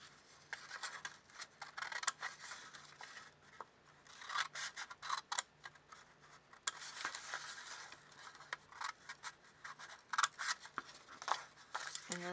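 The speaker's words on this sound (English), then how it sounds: "I make sure that the scissors are coming out above the top strip. Now I cut these." Scissors snip through construction paper in quick, close, crisp cuts, some in bursts of two or three, others spaced apart, with no talking.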